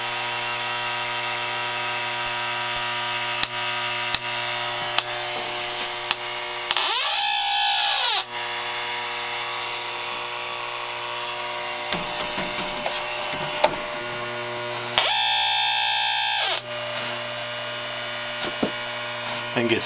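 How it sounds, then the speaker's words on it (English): An electronic refrigerant leak detector checking an AC coil gives off two loud bursts of high warbling, sweeping tone, each lasting about a second or two, over a steady electrical hum with faint handling clicks between. "I just wanted to kind of show the leak detector going off."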